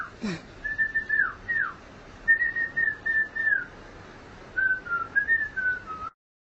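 A person whistles short, clear melodic phrases in bursts separated by brief pauses, close and fairly loud, ending abruptly.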